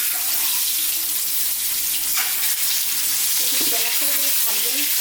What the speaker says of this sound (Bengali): তো আরেকটু তেল দিয়ে দেবো, দিয়ে ডিমটা ভেজে নেব।